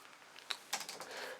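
Keys clacking on an external computer keyboard plugged into a PowerBook G4 running Linux Mint, a few sharp close taps followed by a quicker run of softer keystrokes, quiet room.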